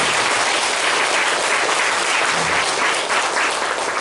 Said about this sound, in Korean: 축하의 박수를 보내주시면 감사하겠습니다